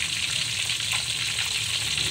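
Steady, dense sizzling of tilapia frying in hot oil, a continuous crackle and hiss with no talking.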